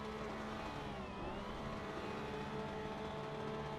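Porsche Cup race car engine revving hard at a standing race start at Fuji in AC Evo, a steady, loud sustained engine drone with shifting pitch throughout.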